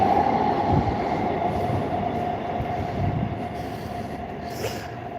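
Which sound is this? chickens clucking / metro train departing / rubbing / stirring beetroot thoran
metro train departing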